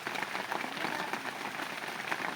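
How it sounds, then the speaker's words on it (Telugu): Raindrops falling on an orchard campsite, a soft steady patter of drops on surfaces with scattered taps, faint and continuous without talk. "చినుకులు పడుతున్నాయంట."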